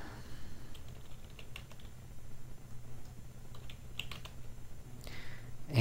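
Soft, steady typing on a computer keyboard, keys clicking in quick irregular bursts close by with a faint background hum and no talk.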